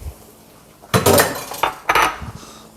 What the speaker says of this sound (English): And then now you just gonna stir.